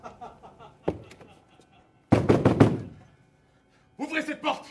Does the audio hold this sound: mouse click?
no